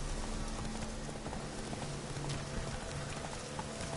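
Hoofbeats of a horse galloping in The Witcher 3 video game, a steady clip-clop rhythm running throughout over dense game ambience, with no talk.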